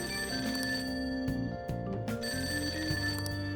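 Old-fashioned telephone ringing inside the Persona 5 Royal video game, a rapid metallic bell trill in repeated bursts over steady background game music, moderately quiet and with no voices.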